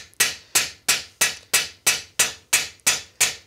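A European scythe blade is peened on an anvil with steady, evenly spaced hammer blows, about ten sharp metallic strikes at a regular rhythm, close and clear with no talking.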